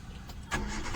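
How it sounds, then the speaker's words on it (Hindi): A car with a faulty boost gauge cranks briefly and its engine catches halfway through, jumping into a louder, steady running rumble close by. "तो करते हैं भाई स्टार्ट गाड़ी को।"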